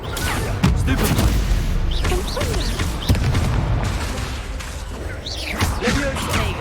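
Spell combat in Hogwarts Legacy with the Stupefy stunning spell cast amid a flurry of other spells, producing a rapid string of magical booms, whooshes and impacts while a voice calls out spell names.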